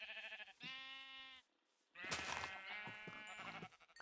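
Minecraft sheep bleat twice in quick succession, fairly close and clear, separated by a short silence and followed by a longer, wavering bleat.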